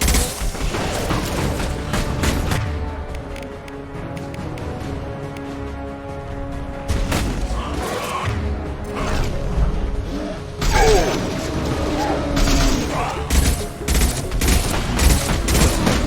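Dense gunfire and heavy weapon blasts from the video game Mass Effect 2 fill the scene, rapid bursts and booming impacts running almost continuously, loud and close, with short pauses between volleys.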